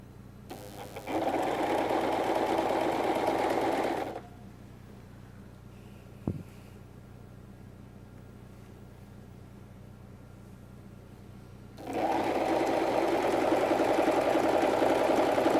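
A sewing machine stitches kameez fabric pieces together, a loud steady whirring run that stops for a few seconds of quiet with a single click, then starts again for another sustained stretch.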